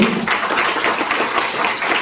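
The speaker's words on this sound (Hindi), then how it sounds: "जबरदस्त ताली होनी चाहिए" Audience applause at a business plan presentation, a steady wash of many hands clapping together, loud and continuous throughout.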